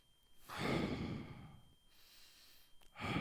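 A person demonstrates shallow chest breathing, drawing a long, audible breath in, pausing, then taking a second sharper inhale, close and alone with no talking.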